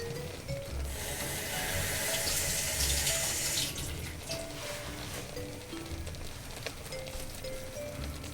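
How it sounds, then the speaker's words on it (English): Fresh thyme is rinsed under a running kitchen tap, a steady, close rush of water that eases slightly after a few seconds and then flows on with small splashy changes. "We're just going to rinse that off again."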